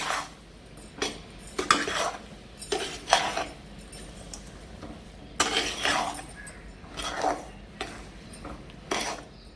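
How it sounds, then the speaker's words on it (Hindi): A spoon stirring a gajak nut and spice mixture in a metal pan, heard as intermittent close scraping and clinking strokes in quick bursts, with no talk. "मसाला डाल के तुरंत हिलाऊंगी इसको और तुरंत इसको नीचे उतारूंगी"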